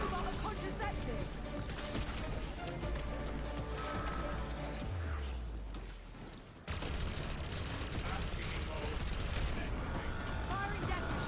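The Death Machine minigun fires in Black Ops 6 Zombies, a dense, continuous rattle of rapid gunfire mixed with crashes and chaos, briefly easing before resuming loudly, with voices talking over it.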